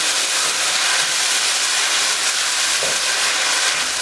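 Rice, about 200 grams, frying in oil over medium heat for Uzbek mastava gives a steady, loud, even sizzle that runs unbroken throughout with no talking.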